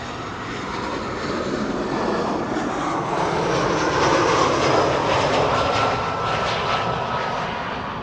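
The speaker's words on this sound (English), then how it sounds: "Croatia Airlines, A319, flight 450, arriving from Zagreb." A Croatia Airlines Airbus A319 arriving at Amsterdam Schiphol on a sunny day gives a steady, loud jet roar that swells slightly toward the middle and eases off, heard alone without voices.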